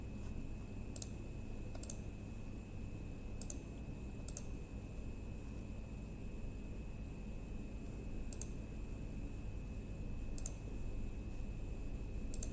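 A computer mouse clicks on software buttons in a sparse, irregular pattern of sharp single and double clicks, close by over a steady hum of room noise.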